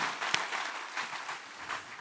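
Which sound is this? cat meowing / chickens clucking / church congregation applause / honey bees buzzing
church congregation applause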